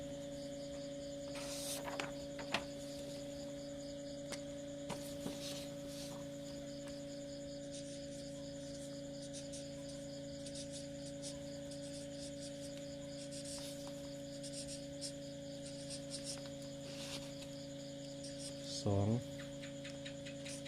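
An electric fan runs indoors with a steady, faint humming drone throughout, broken by a few light ticks and a short knock near the end.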